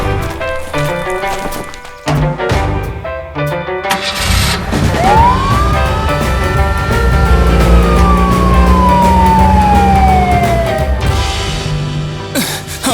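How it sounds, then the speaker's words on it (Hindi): A police car siren wails in long rising and falling sweeps, loud and close, over traffic and engine noise with some clattering in the background. "अगर हम सायरन यूज करें सब रास्ते से हट जाएंगे, सही है ना?"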